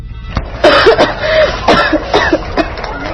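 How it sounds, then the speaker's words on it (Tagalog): A child coughs several times in quick succession, close and loud, with rough, throaty bursts over a faint background. "bakit inuubo na naman ang anak mo?"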